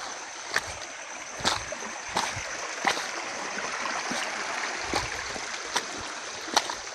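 A river that villagers once swam in as children flows steadily with a soft, continuous watery hiss, punctuated by several brief splashes or knocks at irregular intervals, with no one speaking.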